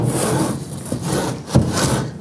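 A firebrick is sanded down by rubbing it with another brick while bricking an evaporator arch, producing a close, continuous gritty scraping with a couple of harder strokes.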